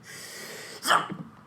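A single sharp sneeze bursts out close by after a stretch of quiet room tone, followed by a short breathy exhale.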